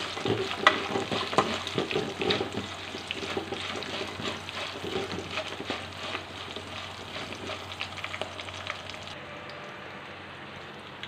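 Cashews, black pepper and cumin roast in a hot pan, a continuous dry sizzle broken by frequent scraping and rattling as a spoon stirs them around.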